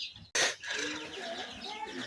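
Chickens and young chicks on a small farm cluck in a dense, continuous chatter after a sharp burst at the start, with speech mixed in throughout.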